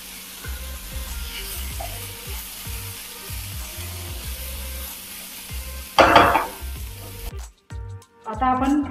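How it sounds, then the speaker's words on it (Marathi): Vegetables for a veg burger sizzle and fry gently in a covered pan, a soft continuous crackle with faint clinks, followed by a louder clatter near the end as the lid is handled. "आता आपल्या भाज्या 2 मिनिटं आपण भाजून घेतल्या।"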